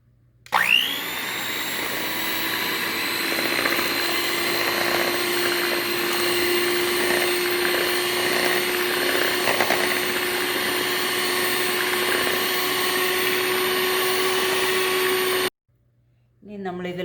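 An electric mixer whirs steadily while beating eggs with vanilla essence for a marble cake, a loud continuous motor drone with a constant pitch that runs close and unbroken before cutting off near the end.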